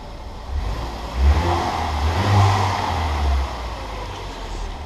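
A Ford Focus ST Estate engine idles steadily and revs up a few times in short surges, heard up close with no talking.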